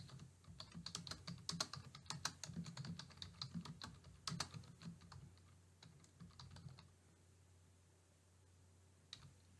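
Rapid typing on a computer keyboard, a flurry of clicky keystrokes in uneven bursts that thins out and stops, close and fairly quiet.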